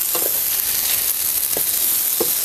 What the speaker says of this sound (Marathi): आता आपण सगळं आहे ना असं थोडंसं परतून घेऊया